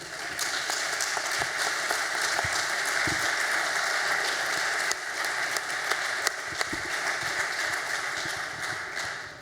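Dense, steady applause from an audience at a tribute event for trade unionists, a continuous patter of clapping that holds at an even level throughout, with no voices standing out.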